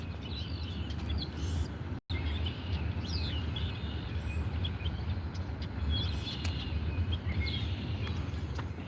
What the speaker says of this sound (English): Are those little baby crows?